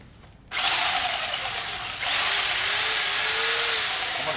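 A power sander runs against a relic-finish Peavey Reactor guitar body clamped in place, kicking on loudly after a moment of quiet and whining steadily, then surging a notch louder as it bites into the contour.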